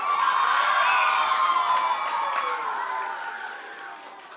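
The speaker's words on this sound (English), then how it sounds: "So big round of applause, please." Applause and cheering from a spoken word audience for a poetry performer, with whoops and shouts over the clapping that gradually fade away.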